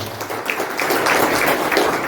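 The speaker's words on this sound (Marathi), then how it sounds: "जोरदार टाळ्या होत्या" An audience bursts into loud, dense applause at a Maratha community student felicitation ceremony, with continuous overlapping clapping throughout.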